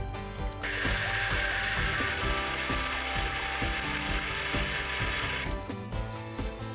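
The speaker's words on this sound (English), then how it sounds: "Begin by coarsely grinding a cup or so of yellow or brown mustard seeds." A cup of yellow or brown mustard seeds being coarsely ground in a mechanical grinder, a loud continuous whirring buzz with a rapid ratcheting rattle, close up, that starts and stops abruptly.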